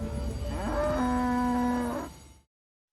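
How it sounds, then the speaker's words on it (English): Cattle mooing on an airport runway during a rough plane landing: a loud, close, drawn-out moo with a rising pitch that swells and then fades away, with no talking. "there are even cows on the runway that nearly get in the way"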